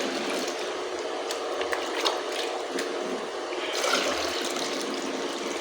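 Previously boiled, cooled water pouring from a container in a steady, close trickle and splash, with a few small clicks and knocks along the way.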